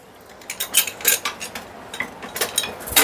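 Metal spoon mixing sliced onion and beetroot in vinegar in a bowl, a run of bright clinks and scrapes against the dish in an irregular stirring rhythm, close and with no talk.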